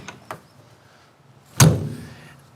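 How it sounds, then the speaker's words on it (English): A couple of faint clicks, then a sharp, loud mechanical clunk as the door of a classic Mercedes-Benz MB 100 van unlatches and swings open, followed by a brief rattle. "Just the sound of opening the door."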